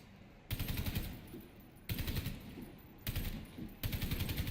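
An automatic gun fires at a wall in a video game, four sustained rapid bursts separated by short pauses, loud and close.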